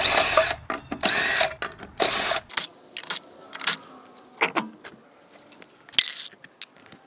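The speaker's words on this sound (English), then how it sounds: "now I can go ahead and use my impact gun to completely remove the lug nuts" An impact gun spins lug nuts off an RV trailer wheel hub in several short loud bursts, followed by lighter metallic clinks and rattles of the nuts and tools between pauses.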